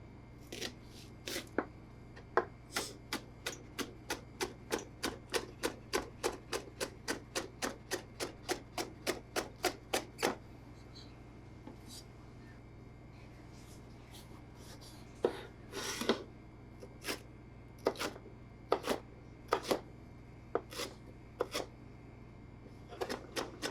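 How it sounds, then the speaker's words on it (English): A knife chops green onion and red pepper on a board for egg fried rice, a long run of quick, even cuts, then a pause and a few slower, scattered strokes, close and clear. "we slice some green onion and some red pepper"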